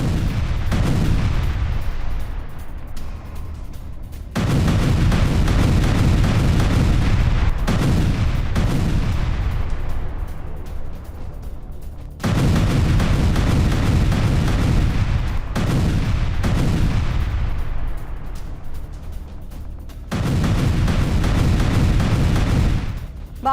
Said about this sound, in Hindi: यूक्रेनी काउंटर ऑफेंसिव पर आक्रामक रुख को देखते हुए खबर आई, जहां मल्टी लॉन्च रॉकेट सिस्टम से हमले को दिया गया अंजाम।